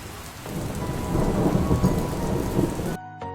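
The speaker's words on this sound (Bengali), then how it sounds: "হালকা হালকা বৃষ্টি পড়ছে" Light rain pattering steadily with a low rumble of thunder rolling underneath, a storm sound effect that builds gently and then cuts off abruptly near the end.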